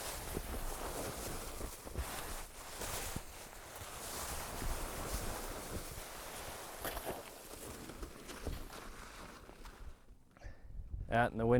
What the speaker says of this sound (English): And the wind just picked up,